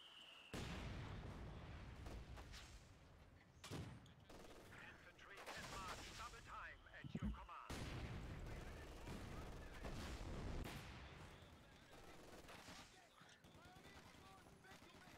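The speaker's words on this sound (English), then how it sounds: "I just use an MG42 to take out a mortar pit to finish the job." Dense MG42 machine gun fire and other gunfire, artillery and explosions in the Company of Heroes 2 video game, loud sustained rattling bursts with booms, a voice speaking over parts of it.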